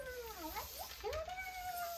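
A cat meows in a few drawn-out, wavering cries close by, rising and falling in pitch over quiet room noise.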